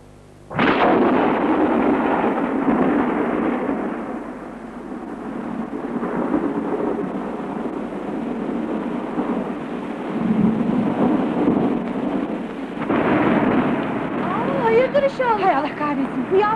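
A thunderstorm with steady heavy rain, a broad loud rumbling wash that starts abruptly and persists, swelling again near the end with a voice briefly heard over it.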